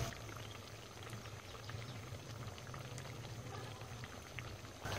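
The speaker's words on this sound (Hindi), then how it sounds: "पाँच से 7 मिनट हम इसको फ्राई करेंगे बिल्कुल स्लो स्पीड पे" Matar kachori frying slowly in hot oil over low heat, a steady soft bubbling and fine crackling sizzle that stays even and continuous at close range, with no talking.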